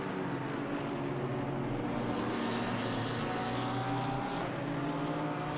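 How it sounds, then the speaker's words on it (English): A Porsche GT race car built on the 992 Cup car roars around Laguna Seca during an FRS GT Series race, a loud, sustained engine drone with a faint pitch shift, no voices. "The new Porsche based off of the new Porsche Cup car 992, and a phenomenal engine sound from that thing"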